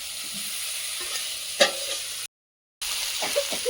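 Fried potatoes go back into a pan of hot oil and sizzle steadily, with a louder clatter of stirring near the middle and a brief dropout before the frying resumes.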